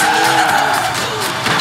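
A BMW, rear-wheel drive, drifts in the Forza Horizon 4 racing game, its tires skidding and squealing in a loud, sustained screech over steady engine noise throughout.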